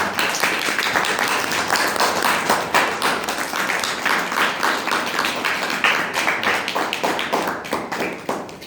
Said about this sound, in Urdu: باقی بچے تالیاں بجاؤ